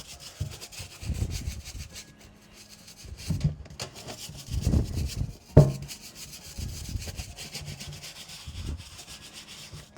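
Soapy brush scrubbing Nike Builder Pro shoes, a soft, close bristly rubbing that comes in uneven bursts of strokes with quiet gaps and one sharp knock midway.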